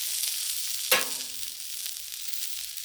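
Pork loin sizzling on a Blackstone flat-top griddle, a soft steady hiss with one brief sharper burst of spatter near the start, then settling back to a quiet even fry.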